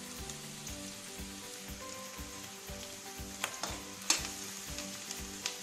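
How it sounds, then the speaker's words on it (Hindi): Chopped onion sizzles steadily in a hot pan for green rice, with soft scraping clatters from a utensil stirring it through the frying, plus a couple of sharper knocks near the end. "प्याज को 1-2 बार चला लेते हैं"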